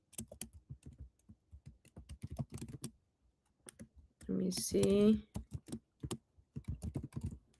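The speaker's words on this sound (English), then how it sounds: "I'm typing something here in the chat so everybody can see it on our Zoom" Quick clicking of a computer keyboard as someone types a chat message during a live Zoom session, arriving in a short dense burst between stretches of nearby talking.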